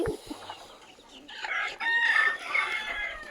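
Native desi village chickens cluck and a rooster crows close by, with brief clucks at first, then a louder, sustained crowing call in the second half.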